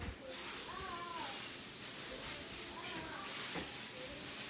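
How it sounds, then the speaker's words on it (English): A steady aerosol hiss of vegetable oil spraying into a pan runs almost without pause, loud and close, with faint talk underneath. "I will spray my pan"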